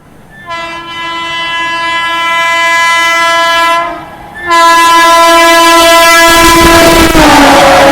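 The Kanpur Shatabdi express sounds its loud, sustained multi-tone horn up close, pausing briefly and then blowing again as the train's rumble swells and it passes.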